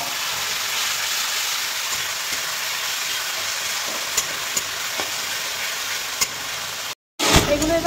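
Onion, tomato and chopped green chili sizzle steadily in hot oil after the tempering, a loud, continuous frying hiss with faint stirring, briefly cut off near the end before the sizzle resumes.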